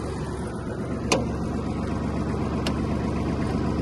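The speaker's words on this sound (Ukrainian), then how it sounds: "давайте ще, поки фреза опущена, включимо вал відбору потужності" A Kubota KL-300 mini tractor engine runs steadily with the power take-off engaged and a rotary tiller lowered, making a loud, continuous mechanical drone with two brief sharp clicks.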